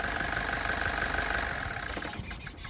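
An Isuzu NPR 130 truck engine idles steadily up close, a continuous low rumble with a faint tonal hum that eases slightly toward the end.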